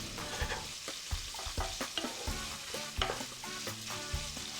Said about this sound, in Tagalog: Lulutuin natin ito hanggang sa mag-brown ang inyong sausage.